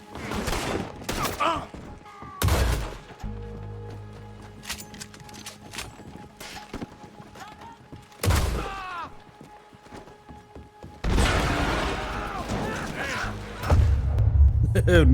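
Video game gunfire as a character shoots a lock off: several sharp, loud shot bursts ring out at intervals between quieter stretches, with voices speaking in between.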